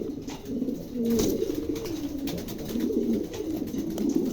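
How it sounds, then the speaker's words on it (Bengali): Lahori stencil pigeons cooing in a low, continuous, overlapping chorus, close up and steady throughout, with no voices. "দেখছেন কবুতর দেখছেন খুবই চমৎকার"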